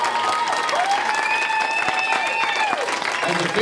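An audience claps steadily at a private country music showcase, a dense patter of applause with a few whistles and cheers rising over it.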